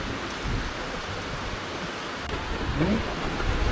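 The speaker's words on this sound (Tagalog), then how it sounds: "Grabe yung ulan." Heavy rain pours down outdoors in a rural rice-farming area, a dense, steady hiss that fills the air without pause, growing slightly louder toward the end, with no talking.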